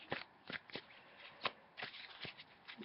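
Oracle cards being shuffled and drawn by hand: a run of soft papery riffles and slaps in irregular bursts, close and fairly quiet, with no talking.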